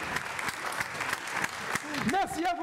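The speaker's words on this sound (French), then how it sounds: "Sous un tonnerre d'applaudissements." Scattered clapping from a Téléthon talent show audience continues, with individual claps audible, as a voice comes in over it toward the end.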